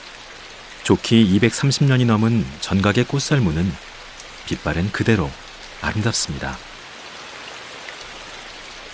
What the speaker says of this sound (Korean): 대광보전으로 비를 피해봅니다.